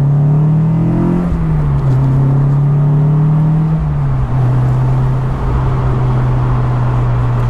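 Honda S2000 AP1 roadster driven with the top down on a cold, dark evening, its engine a steady close drone that rises in pitch and then settles into an even cruise under wind noise.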